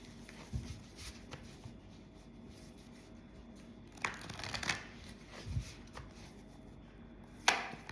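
Tarot cards are shuffled by hand in a quiet room, making soft riffling and sharp card slaps at a few scattered moments against a low background hiss.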